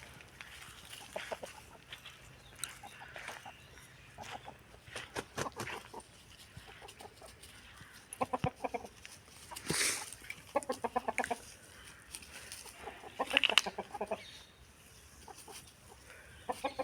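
Chickens, a fighting-breed Aseel rooster and a hen, cluck and squawk intermittently nearby, soft and scattered, with occasional louder bursts from the birds.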